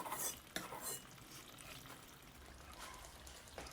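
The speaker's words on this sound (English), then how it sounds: "now I am going to gently stir it" Salted pig feet stew, Ghanaian nane stew, gently stirred in a pot, giving soft wet scraping and sloshing strokes with a faint simmering bubble underneath, close and fairly quiet.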